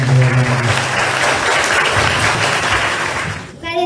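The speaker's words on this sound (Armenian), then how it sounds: "ծափերով եկեք ողջունել" A room of people applauds steadily to welcome young speakers at a meeting with Armenian schoolchildren from a prime minister's cup swimming tournament, the clapping loud and dense before fading, with brief talk at the start and end.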